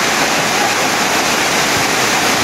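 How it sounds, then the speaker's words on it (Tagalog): Floodwater pouring across half of an outdoor basketball court makes a loud, steady rushing roar like a waterfall, close and continuous with no voices. "Baha na yung kalahati ng court."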